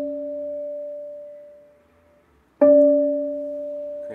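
A piano string muted with a rubber strip from a canning jar gives a plainer, more wooden tone: one note fades out, a short gap follows, then a second note is struck and sustains; no voices.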